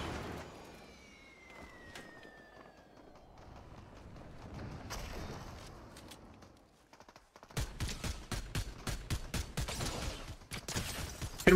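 Video game gunfire breaks out as a rapid string of loud, evenly spaced shots in the second half, after quieter, rumbling ambient noise.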